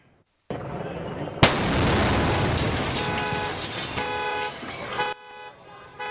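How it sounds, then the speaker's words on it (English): A truck loaded with about 5,000 pounds of seized illegal fireworks explodes in South Los Angeles with a single sudden loud blast, followed by a sustained roar and crackle that fades into background noise, with car horns sounding afterward. "a truck full of fireworks exploded in South Los Angeles last night"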